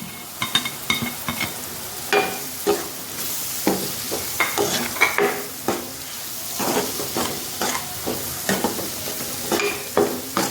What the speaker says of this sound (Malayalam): മിക്സ് ആക്കണം, മസാലയൊക്കെ എല്ലായിടത്തും പിടിക്കണം.